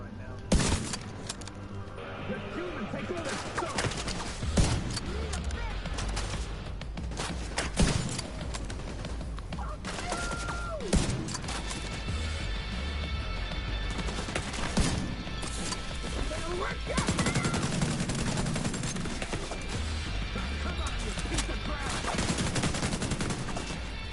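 Rapid bursts of gunfire rattle through a firefight against a sniper in The Division 2 video game, loud and repeated over a steady roar of action, with sharp cracks and impacts and talk over the top.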